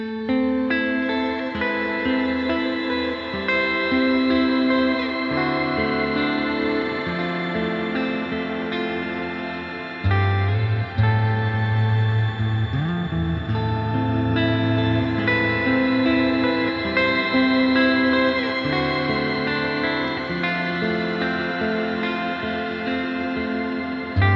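Electric guitar played through a TC Electronic Fluorescence pedal with only the reverb on and shimmer off, sustained chords and notes ringing into a washy, lingering tail, loud and continuous with no talk.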